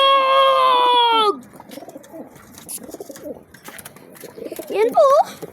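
A pigeon coos softly and briefly near the end, following a loud, high wavering cry at the start, with background rustle and voices.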